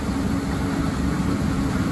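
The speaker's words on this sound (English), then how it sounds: "Sorry about the noise from the heater" A heater running in a machining shop, giving a steady loud low rumble and hum with no breaks, alone without talk.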